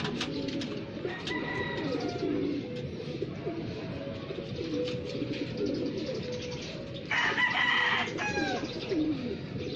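Racing pigeons coo during a 96 km training flight, giving soft, low, repeated coos close by under a steady background, with a brief brighter burst of bird noise near the end.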